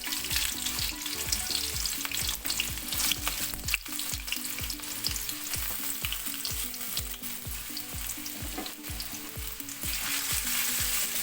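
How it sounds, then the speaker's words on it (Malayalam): Chopped ginger frying in hot coconut oil, a loud, continuous crackling sizzle up close, broken by frequent spatula scrapes and stirs throughout, with no voices. "ഇനി നമുക്കിതിലേക്ക് ഈ അരിഞ്ഞു വെച്ചിരിക്കുന്ന ഇഞ്ചി ഇട്ടൊന്ന് വറുത്തെടുക്കണം."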